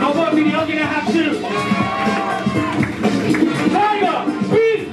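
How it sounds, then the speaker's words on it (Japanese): A crowd at a live rap show cheers and whoops in a steady roar, with shouting voices and some clapping rising over lingering music. "大きな拍手"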